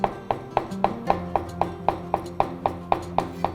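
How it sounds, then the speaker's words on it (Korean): A knife strikes a cutting board in a steady, quick rhythm, about a dozen crisp, even chops close up while vegetables are sliced thin and then cut into strips in a school-lunch kitchen making lasagna. "채를 썰 거기 때문에 편썰기 먼저 하시고 채 썰기"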